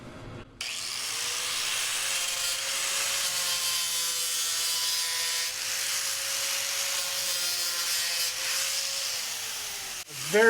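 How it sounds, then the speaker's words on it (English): A 36 grit sanding disc on a power tool grinding residue off during an AEV 37-inch tire clearance kit install, a loud continuous abrasive whine with a steady motor tone for about ten seconds after a sudden start. "Sanding disc."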